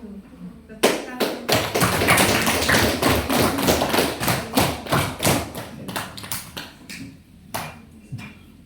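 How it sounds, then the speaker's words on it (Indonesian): Classroom audience in an Indonesian school breaking into applause after a group presentation, a dense burst of hand claps and thumps starting abruptly, swelling, then thinning into scattered claps with voices mixed in. "Tepuk tangan."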